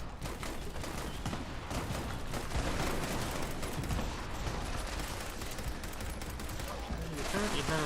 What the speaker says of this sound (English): We apparently have just infinite explosions going on over here.